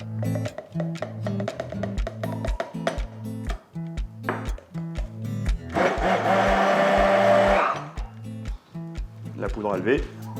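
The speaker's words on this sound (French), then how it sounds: "je la fais avec un mixeur ou un blender" An electric blender or mixer whirs through a flour and baking-powder fritter batter, a loud burst of about two seconds set against a steady rhythmic background.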